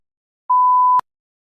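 A single steady electronic beep marks the start of TOEFL speaking response preparation: one clean, mid-pitched tone lasting about half a second, ending in a sharp click, with silence around it.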